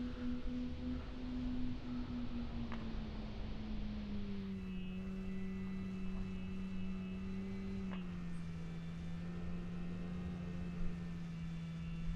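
A Super Timber RC model airplane's propeller motor drones steadily at a moderate distance as the plane comes in to land, its pitch sliding gradually lower as it throttles back, with no talk.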